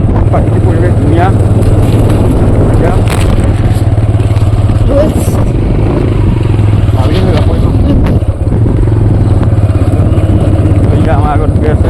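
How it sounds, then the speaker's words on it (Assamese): A motorcycle rides along a rural road in a riverside char area of Majuli, its engine droning steadily and loudly with heavy wind buffeting the microphone, while a person talks over it throughout. "পূৰা বাইক লৈ আহি আছোঁ"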